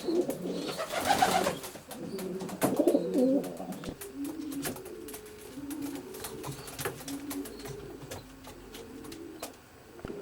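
Racing pigeons coo steadily inside a loft where paired cocks are feeding their young, with repeated soft rolling calls close by and some fluttering and shuffling noises around them.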